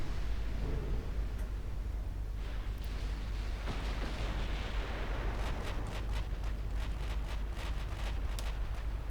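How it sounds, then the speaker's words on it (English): A distant explosion rumbles during a naval battle in the video game Ultimate Admiral Dreadnoughts, a deep sustained roar under scattered sharp cracks of gunfire, with no talking. "that's pretty cool with the explosion in the background"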